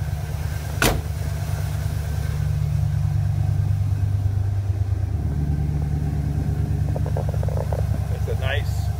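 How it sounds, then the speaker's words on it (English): A 1990 Ford Bronco idles with a steady, low dual-exhaust rumble, close and constant throughout, with a brief sharp click near the start and faint speech late in the clip. "It's a nice, low rumble, that dual exhaust."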